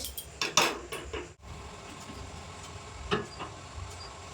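Cooked helencha greens with small mixed fish are spooned onto a plate, bringing a few close clinks and scrapes of a metal spoon on a dish, busiest at the start, then a quieter stretch with one more clink.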